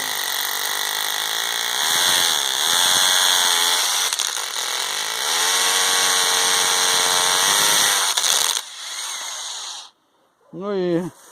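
A Bosch 12V brushless cordless drill whines steadily and loudly up close, its pitch shifting as it bites into hollow brick, then stops; a voice speaks briefly at the end.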